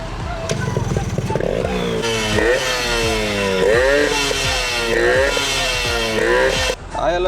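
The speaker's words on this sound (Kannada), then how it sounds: "ಗಾಡಿ ಸ್ಟಾರ್ಟ್ ಮಾಡಿ ತೋರಿಸ್ತೀನಿ" Yamaha RX135 motorcycle, a 135 cc two-stroke, starting and then revving hard. A loud, close, buzzing engine climbs and drops through a series of repeated throttle blips.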